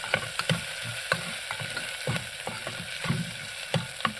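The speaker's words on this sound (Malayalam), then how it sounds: "നമ്മുടെ സവാള വഴന്ന് വന്നിട്ടുണ്ട്. ഇതിലേക്ക് ഒരു പച്ചമുളക് ചേർത്ത് ഇളക്കി കൊടുക്കാം." Onion and green chili sizzle in a frying pan on the stove for a Kerala-style potato curry, with steady frying hiss and repeated close scraping stirs of a spoon against the pan.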